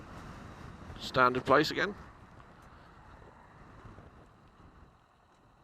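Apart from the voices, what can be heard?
wind blowing on a Kawasaki Vulcan S motorcycle ride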